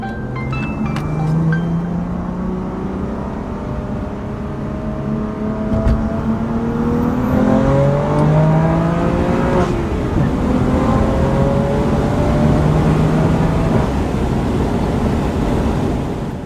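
A car's exhaust with an Active Autowerke equal-length midpipe and AWE SwitchPath exhaust hums smoothly as the engine revs up and down through gears, a steady, muffled drone heard from inside the cabin.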